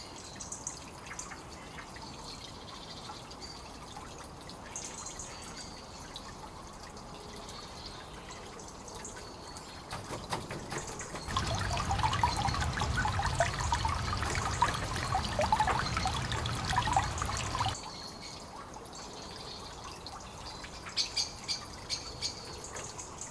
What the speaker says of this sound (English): We feed the pond with rainwater coming from the roof by means of a pipe system